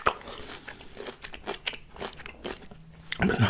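Close, wet crunching and biting of Thai mixed pickled fruits, irregular chews and snaps with brief pauses, ending in a louder burst of crisp crunches.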